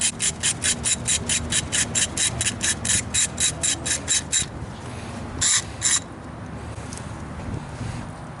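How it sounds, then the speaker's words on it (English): Ratchet with an 8mm socket clicking on tight bolts of a Chevy 5.3 Vortec LS engine, a fast even run of about fifteen crisp clicks, then a pause and a few more after, close and alone. "Use an 8mm socket. Use a larger ratchet,"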